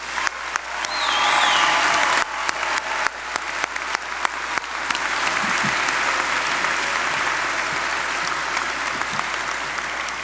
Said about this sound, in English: a cheerful round of applause for all of the mothers in the room